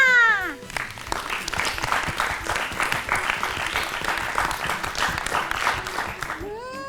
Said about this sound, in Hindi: बिल्कुल सही जवाब, तालियां।